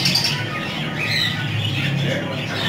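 Fischer's lovebirds in a bird shop give a constant chorus of shrill squawks and chirps, dense and close, with faint voices underneath.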